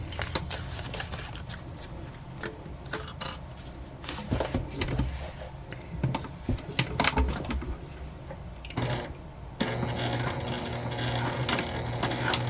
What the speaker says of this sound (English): we're gonna stitch down one side all the way across and back up